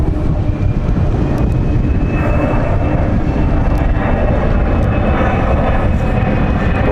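A Dublin-bound airliner aborting its landing and going around on runway 27 at London City roars loud and close, a dense unbroken engine drone that stays strong throughout with no voices.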